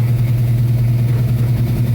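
A Chevrolet C-10 truck engine idling with a low, steady, throbbing rumble, close and loud, with no voices and no clear gear engagement standing out.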